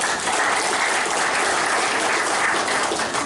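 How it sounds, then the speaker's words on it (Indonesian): Steady applause from an audience at an anniversary celebration in West Lombok, Indonesia, fills the whole moment with dense, even clapping at fairly close range and no one talking over it. "Tolong tepuk tangan."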